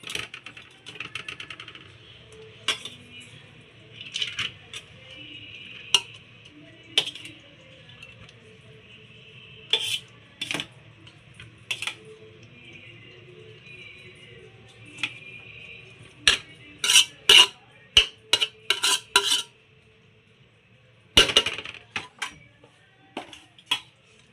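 Rice is spooned into a pot of mutton biryani, heard as scattered metallic clinks and taps of a ladle against the vessel, sparse at first, then a quick cluster of sharp knocks, close by in a quiet kitchen.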